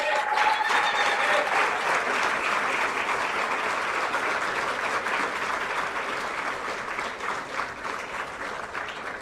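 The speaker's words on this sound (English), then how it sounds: "Let's give them another round of applause." Audience applause fills a university public lecture hall at UNAM, a thick, continuous sustained clapping that holds steady for about nine seconds and eases slightly toward the end.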